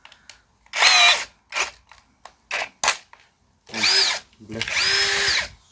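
A power screwdriver drives screws into wood in several short, loud whirring bursts of rising and falling pitch, separated by pauses with brief bits of speech.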